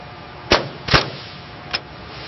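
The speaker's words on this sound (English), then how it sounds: "Pin gun going in." A pneumatic pin gun drives a track pin into a vehicle track segment, giving three sharp, loud bangs, two close together and a fainter third, with steady background hum between.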